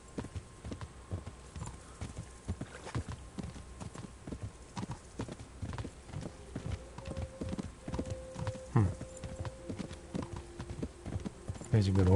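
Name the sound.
horse hooves trotting, from video game Kingdom Come Deliverance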